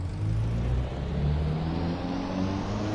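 A race car engine in Assetto Corsa revs steadily at high pitch out on the track, loud and continuous with a sustained whine and no voices.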